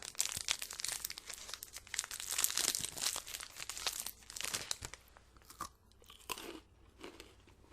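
Close, loud crunching and chewing of a Butterfinger chocolate bar with a crisp peanut butter centre. Bites snap sharply, and wet mouth sounds and faint crinkling fill the gaps. Steady bursts fade toward the end. No talking.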